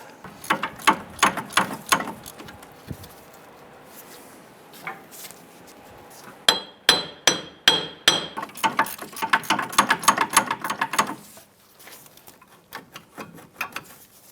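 A ratchet clicks away at a hub bolt on a 2005-2010 Chrysler 300 during rear ABS tone ring work, close by in repeated quick bursts of clicks with short pauses between runs.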